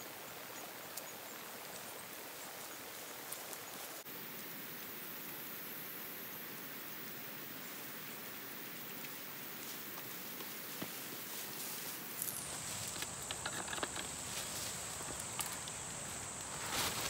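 Steady rain falling outdoors in a rural fishing spot, a constant broadband hiss with patter throughout, growing denser and louder in the last few seconds, with no voices.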